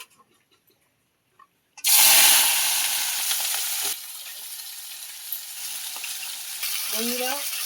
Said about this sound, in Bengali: আরে বটবটি আর আলু ভাজা করে নেব।